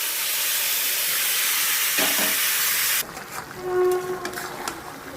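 Marinated chicken dropped into hot oil in a pan with whole spices sets off a loud, steady sizzle that cuts off sharply after a few seconds, leaving fainter crackling and light clatter.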